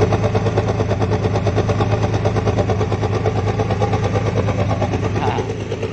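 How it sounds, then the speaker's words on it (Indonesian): Exhaust of an Akas Asri bus with a Hino AK Ranger diesel engine, running on the road toward Madura: a loud, close, steady rumble with rapid even pulsing that lasts throughout and eases slightly at the very end. "Knalpotnya nih."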